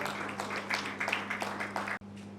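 Applause from guests at an annual corporate dinner for ALPHA10 Fund Management Limited, a steady crackling patter of many hands over a low hum, lasting about two seconds and then cutting off abruptly.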